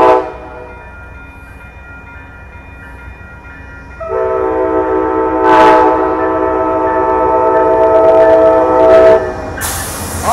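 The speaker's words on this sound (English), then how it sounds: "This is Coast Starlight number 11 headed to Los Angeles with 203 leading off." Amtrak Coast Starlight No. 11 bound for Los Angeles passes with P42DC locomotive 203 in Operation Lifesaver livery leading. A rumbling rush swells at about four seconds, holding steady and loud as the cars roll by.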